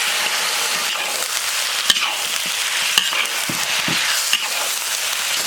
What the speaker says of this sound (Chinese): 炒香倒入鸡肉